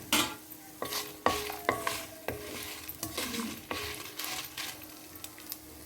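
Sesame seeds roast in a pan for coriander chutney, a spatula scraping and stirring in repeated strokes over a soft, steady sizzle, close and fairly clear with no talking.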